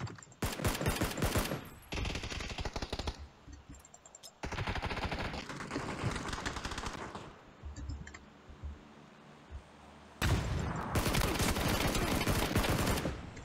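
In PUBG, automatic gunfire and blasts come from all around in long, dense bursts, loud and close, broken only by brief lulls and faint clicks, and the heaviest volley comes near the end.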